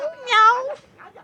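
A person in an animated series imitates a cat with one drawn-out, close meow, followed by a couple of faint, brief trailing sounds.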